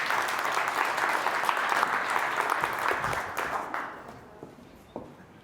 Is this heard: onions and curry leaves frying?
no